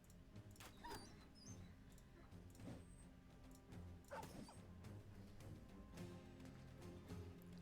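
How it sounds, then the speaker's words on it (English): War dogs in the medieval combat game Battle Brothers bark and yip in scattered short bursts over a steady low game soundtrack, fairly faint. "Oh boy, we gotta fight war dogs."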